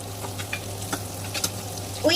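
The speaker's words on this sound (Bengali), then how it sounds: "এখানে আমি পেঁয়াজের সাথে একটু রসুনটাকে ভাজা ভাজা করে নিচ্ছি" Onion and garlic frying in a pan for a small-fish chorchori, with a constant crackling sizzle and repeated scraping stir strokes. A low electrical hum runs underneath.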